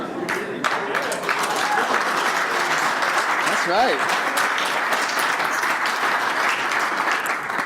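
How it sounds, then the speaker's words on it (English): Guests applauding at the 2018 ICIT Gala & Benefit dinner at the St. Regis, a dense, steady round of clapping from a large room that continues throughout, with someone speaking briefly over it. "That's the first time I've ever had an applause for dinner."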